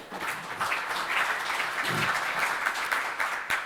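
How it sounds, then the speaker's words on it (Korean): An audience at a political seminar on lessons from the Ukraine war and Korean security policy applauds steadily for several seconds, a warm, even clapping from many hands in a conference room. "박수 한번 주시죠"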